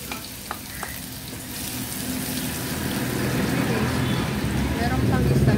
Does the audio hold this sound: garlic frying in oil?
yes